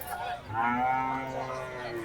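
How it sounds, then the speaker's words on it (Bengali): A calf at the Maligram cattle market in Faridpur lets out a single drawn-out moo, close and clear over faint market murmur. "আর এখানে আছে সুন্দর একটি বাছুর গরু"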